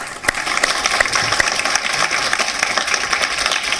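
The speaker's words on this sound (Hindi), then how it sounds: "एक बार जोरदार तालियां बजाएं शाइस्ता जी" Loud audience applause at a Hindi poetry contest on political themes, a steady wash of clapping from a crowd that holds for several seconds, with a few sharper claps near the start.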